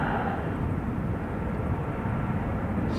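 An airliner takes off steeply from Christchurch airport, its engines making a steady, loud, broad rumbling roar that holds throughout without a break.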